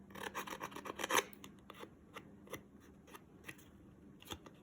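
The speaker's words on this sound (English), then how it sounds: "You can scuff up the sides some." A playing card's edges are scuffed and rubbed to age it, giving a run of short rasping strokes that are busiest early on, then scattered scrapes, close and fairly quiet.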